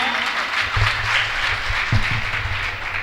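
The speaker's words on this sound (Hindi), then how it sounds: "एक बार जोरदार तालियां हो जाए वंदना वर्मा जी के लिए।" Loud, sustained applause from a mushaira poetry gathering audience, dense clapping filling the room for about three seconds with a few sharper claps standing out near the end.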